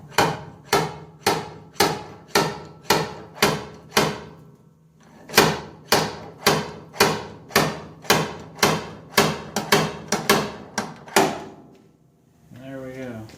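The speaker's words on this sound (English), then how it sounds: "So give it a little tug with one hand and light taps with the other." A slide hammer taps a welded stud on a 1966 Ford F100 body panel: repeated sharp metallic knocks in a steady rhythm, roughly two per second, a brief pause midway, then more taps ending with a short rattling scrape.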